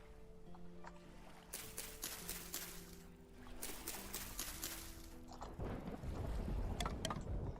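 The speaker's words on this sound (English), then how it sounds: "Great, and we've got lightning and thunder again." Thunder rumbles through a rainy scene in the Vintage Story game, with broadband crashes and rumble swelling in bursts over steady rain and ambient tones, growing louder toward the end.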